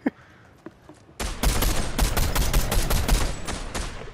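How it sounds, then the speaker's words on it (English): Fortnite gunfire erupts after a near-silent start with a couple of faint clicks, then a loud, dense run of rapid shots and overlapping bursts fills the rest. "They shot me. Somebody shooting at me."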